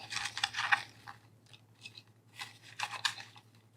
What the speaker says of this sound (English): Let's give this, a little shuffle in here.